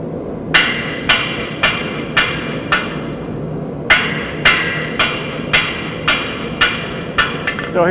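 A blacksmith hammers a hot metal taper on an anvil, sharp ringing strikes landing in an uneven series of about a dozen blows with short pauses between groups, loud and close, no talking.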